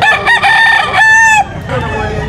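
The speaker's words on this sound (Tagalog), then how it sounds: "Puro istagan ng mga manok ngayon dito sa Grotto" A stag rooster at the Grotto market in Bulacan lets out a loud, close cock-a-doodle-doo in two bursts, with a few clucks trailing after.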